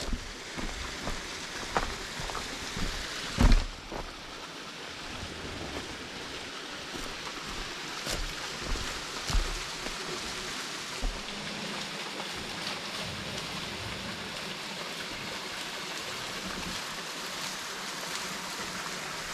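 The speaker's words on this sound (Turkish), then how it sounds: "Evet, cennet şelalesi." Cennet waterfall near Karacaören Dam in Isparta pours steadily, a dense continuous rush of falling water with no voices, holding even in level apart from a brief thump early on.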